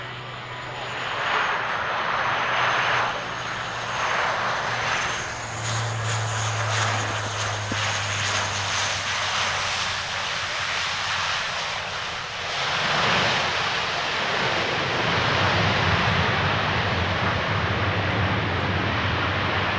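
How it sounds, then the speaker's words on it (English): MC-130J transport aircraft performing a maximum effort assault landing at an air show, loud sustained turboprop engine roar with whining propellers, swelling and shifting as the aircraft passes nearby. "now let's watch as they demonstrate for us that maximum effort assault landing"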